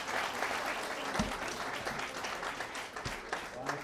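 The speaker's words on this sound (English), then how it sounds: "let's give them a hand" An audience claps steadily after a question session with the Iraqi president, a dense, even wash of applause with voices talking faintly underneath.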